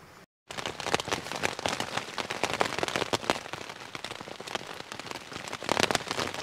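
Steady rain patters on a small one-person MSR Elixir 1 tent and tarp at night on a clouded hillside campsite, a dense, continuous close drumming with scattered louder drops, no voices.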